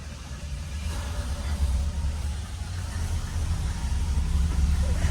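A 1968 Cadillac DeVille idles with its engine running, a steady low rumble that holds even and continuous throughout, fairly quiet with no voices over it.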